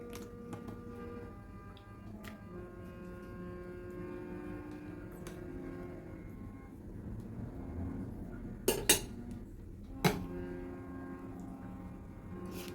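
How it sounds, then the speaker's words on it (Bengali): A spoon stirs semolina into jackfruit juice in a bowl with sugar and a pinch of salt, giving a few sharp clinks against the bowl near the end over a steady, soft tonal background. "আমি এখন আস্তে আস্তে মিশাচ্ছি আমি কাঁঠালের রসটার মধ্যে দিয়ে দিচ্ছি সুজি"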